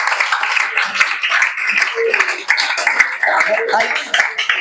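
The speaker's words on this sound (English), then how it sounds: "Can you please give him a round of applause, please?" A crowd at a student leadership training session claps for a speaker, a continuous patter of applause mixed with voices talking over it.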